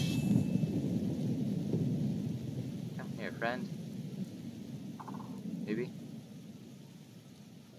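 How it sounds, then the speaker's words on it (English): Thunderstorm rumble and falling rain in Skyrim fill the background as a continuous low roar, with a voice speaking briefly over it and a few short chirping calls. "But we will not be flying in the rain."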